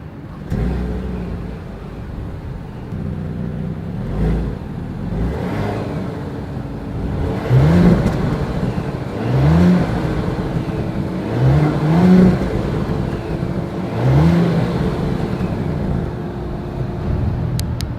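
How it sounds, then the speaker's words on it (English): An Audi Q7 SUV's exhaust idles with a deep rumble, then revs up sharply several times in quick bursts, loud and close. "As always, here is that exhaust clip."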